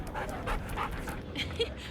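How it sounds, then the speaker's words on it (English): An airport police dog pants in short breathy bursts amid a busy noisy background, with faint whimper-like tones and talk blended in. "Havoc is a canine officer with the Metro Nashville Airport Authority."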